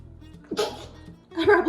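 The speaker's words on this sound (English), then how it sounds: "won't be doing much but sneezing" A person sneezes twice in quick succession, close and fairly loud, the second burst stronger than the first.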